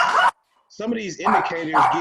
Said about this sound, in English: Tony, your dog's gone crazy.